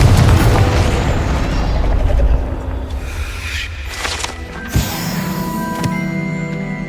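A Confringo blasting spell explodes in Hogwarts Legacy: a loud, deep boom that decays into rumble, followed by smaller crackling bursts and ringing magical tones.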